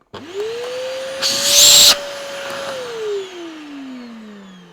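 A Vytronix vacuum cleaner motor whirs up to speed, holds a steady loud whine with a brief harsher burst, then winds down as it switches off.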